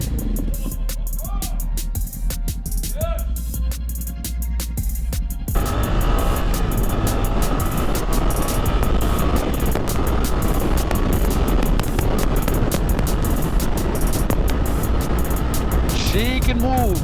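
Riding a Suzuki GSX-8R motorcycle: a steady engine drone with heavy wind rush, rising louder partway through and continuing unbroken, while a rider talks over it.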